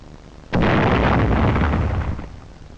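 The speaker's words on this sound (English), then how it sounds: "Anti-tank mines are detonated by the charge." A demolition charge blows a log roadblock and sets off anti-tank mines in the road, a sudden loud blast at about half a second that rumbles on for over a second before fading away.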